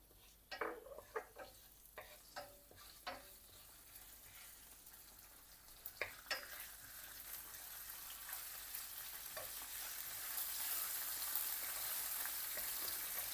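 Spices, fenugreek leaves and curry leaves crackle and pop in hot oil, with scattered sharp ticks early on giving way to a steadily rising, continuous hiss of sizzling.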